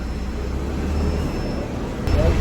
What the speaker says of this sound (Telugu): అన్నవరం దాటాక బంపర్ టు బంపర్ ట్రాఫిక్.